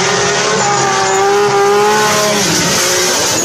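A race car sound effect used with a toy car: a loud engine whine with a sweeping tire squeal that rises and then drops away over a few seconds.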